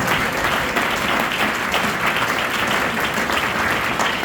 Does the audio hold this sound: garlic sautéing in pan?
no